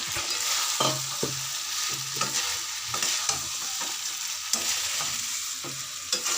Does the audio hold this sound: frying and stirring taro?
yes